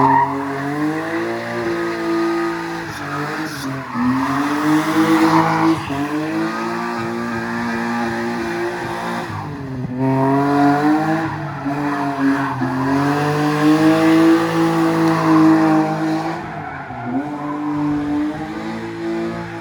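A BMW E46 M3 doing donuts, its engine revving hard in repeated surges while the tires squeal and scrub loudly, close and continuous for the whole stretch.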